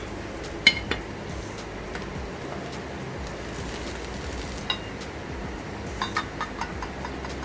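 A plate and frying pan clink a few times as a rösti potato is flipped, with sparse, irregular light knocks over a quiet kitchen background.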